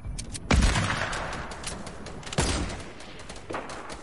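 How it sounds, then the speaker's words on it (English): Gunfire in Fortnite: two sharp, loud shots about two seconds apart, each trailing off into a rolling echo, followed by a fainter third report, with a crackle of smaller shots at the very start. "he just sniped and that like skimmed my head"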